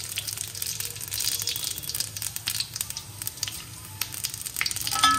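Dried red chillies and panch phoron crackle and sizzle in hot oil in a pan with mango pieces, a steady close frying hiss dotted with sharp popping spits, no voices.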